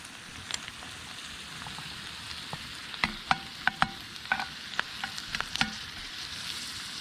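Harvested mushrooms sautéing in a frying pan, a steady soft sizzle with intermittent clinks and scrapes of stirring, close and alone without talk.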